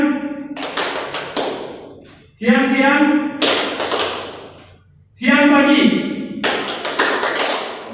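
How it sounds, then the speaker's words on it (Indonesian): Students in a classroom clap rhythmically in a clap game, three sharp bursts of claps alternating with group chanting, close and lively. "Oke, tepuk tangan semua"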